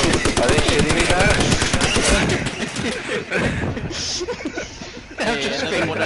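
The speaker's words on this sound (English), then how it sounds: "Oh, are they shooting me now?" Rapid bursts of video game gunfire fill the first two seconds, loud and dense, then ease off as laughter and chatter take over, with another burst near the end.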